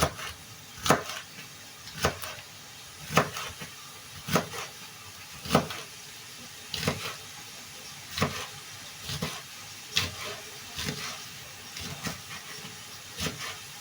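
Thin peppers being chopped into small pieces with a knife on a cutting board, about a dozen sharp, evenly spaced knocks against a steady background hiss, no talking.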